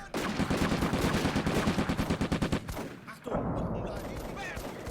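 Rapid bursts of small-arms and machine-gun fire from the Combat Mission: Afrika Korps video game, a dense crackling volley that stutters into separate shots, stops abruptly, then gives way to a lower rumbling aftermath.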